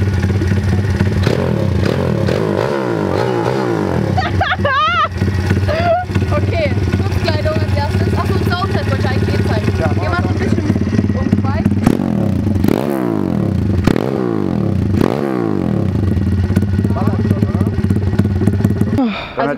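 A small 140cc pit bike engine revs continuously and loudly nearby, rising and falling in pitch over a rattly mid-range drone, with people talking over it throughout.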